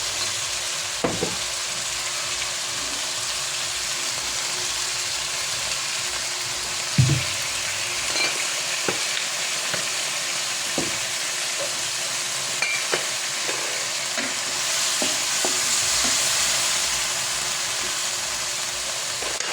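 Pork adobo sizzles steadily in a pan after soy sauce is added, with intermittent scrapes and clinks of stirring over the constant frying hiss. No one speaks.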